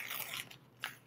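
Tape peels away from a surface as a short, close, crackling rip, with a brief sharper tearing burst near the end.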